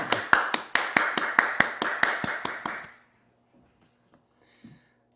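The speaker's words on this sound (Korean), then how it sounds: "우리 찬양을 받으신 하나님께 박수 보냅니다." Steady rhythmic clapping from a church congregation at a Sunday worship service, about a dozen even beats that stop abruptly, followed by near silence with faint small sounds.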